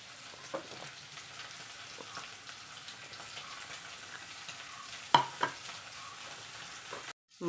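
Mackerel and raw mango go into a simmering gravy for a Kerala-style fish curry: a soft, steady bubbling sizzle up close, broken by a few louder splashes and clatters as the pieces drop in.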